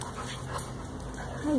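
Puppies outside pant quickly and let out a short high whimper near the end, close and fairly quiet over a light outdoor hush.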